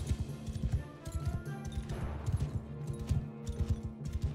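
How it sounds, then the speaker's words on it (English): Horses galloping across a battlefield in Mount and Blade Bannerlord, a busy rhythmic drumming of hooves mixed with scattered sharp cracks of combat, moderately loud and continuous. "That's horses."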